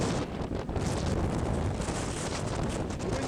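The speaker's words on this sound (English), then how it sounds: "The wind is definitely strong." Strong wind gusting through a valley at around 40 to 50 miles an hour makes a steady, loud roar with heavy microphone buffeting throughout.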